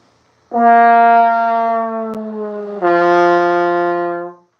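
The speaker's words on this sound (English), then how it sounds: "maybe I'll try like a slow bending exercise where I bend from one harmonic to another on the same" Brass instrument held on one fingering, a loud sustained tone that slides slowly down from one harmonic to the next, then a second held note, played alone.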